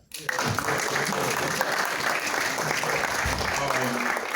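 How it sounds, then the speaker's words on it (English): An audience breaks into sudden applause after a short silent gap; dense, steady clapping continues with a few voices calling out over it. "Y'all should clap for that."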